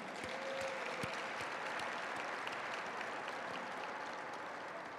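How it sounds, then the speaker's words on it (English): An audience at a Lunar New Year celebration applauds after a lion dance performance: steady, dense clapping from a crowd, moderately distant and continuous throughout, with a few sharper individual claps standing out. "Let's give them all a round of applause"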